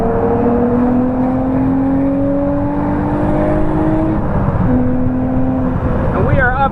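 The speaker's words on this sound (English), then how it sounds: "we're gonna do a highway merge here real quick. Put the window down. This third gear pull," Infiniti G35 sedan pulling hard in third gear on a highway merge with the window down, a steady loud engine drone rising in pitch over several seconds, easing briefly as the gear changes, then climbing again.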